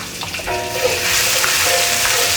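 Minced garlic and sliced ginger hit two or three spoonfuls of hot frying oil, a loud continuous sizzle that swells after a brief start.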